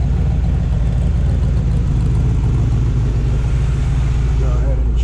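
A 1966 Chevrolet Corvette Convertible's engine idles steadily nearby, a loud, continuous low rumble holding even throughout with no revving.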